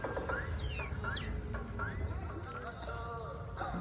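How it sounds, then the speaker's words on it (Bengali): Pet chickens cluck and cackle faintly at a distance by a village mud house near Bolpur, India, over quiet outdoor ambience, with a few high chirping calls mixed in. "ওদের পোষা মুরগি"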